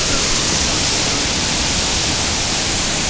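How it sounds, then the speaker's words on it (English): The Zeballos River in flood after a rain-on-snow storm, rushing through a narrow canyon constriction, makes a loud, steady, unbroken roar of churning water that fills the whole clip. "This is the Zeballos River Canyon."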